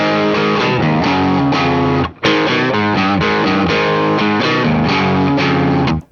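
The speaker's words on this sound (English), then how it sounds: "What you actually heard were this Epiphone and this Epiphone." Epiphone Les Paul electric guitar played through distortion, loud chugging chords and riffs with a brief gap midway, then continuing until a sharp stop, heard alone without talk.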